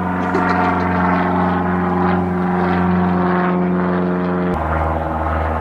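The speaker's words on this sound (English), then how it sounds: "plane, passing by." An airplane passes overhead, its engine a continuous, fairly loud drone that holds steady before changing abruptly near the end.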